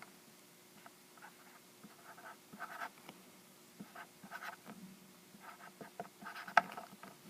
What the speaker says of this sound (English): take your Sharpie and write the child's name on the back of the crucifix